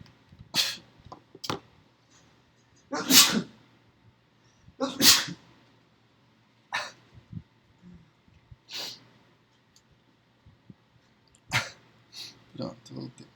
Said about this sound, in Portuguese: Eu vou espirrar.